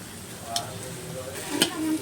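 Eggs stir-fry with vegetables in a pan for egg fried rice, a steady close sizzle broken by a couple of scraping stirs of the spatula.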